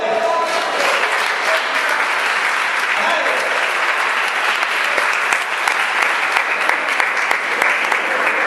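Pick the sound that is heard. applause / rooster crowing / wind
applause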